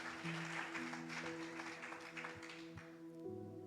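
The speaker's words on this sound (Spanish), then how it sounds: "Denle un fuerte aplauso al Señor" A church congregation applauds during a Spanish-language service, a soft spread of clapping heard under sustained organ or keyboard chords, with the tones shifting partway through.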